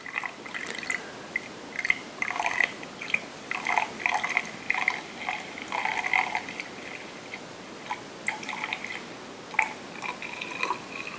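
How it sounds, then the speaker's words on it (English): Water poured into a funnel for a home natural convection heat transfer experiment, an uneven run of close trickling and gurgling bursts with short pauses between. "So here we're pouring the water in."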